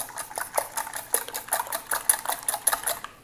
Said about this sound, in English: So we'll just whisk up our eggs.